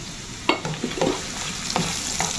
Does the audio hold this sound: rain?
no